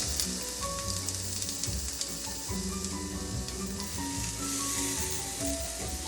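Salmon pieces sizzle in a sprayed pan, a dense, steady frying crackle with scattered pops holding at an even level from start to finish.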